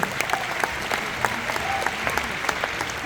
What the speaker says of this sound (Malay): Okey, bagi tepukan dulu untuk beliau.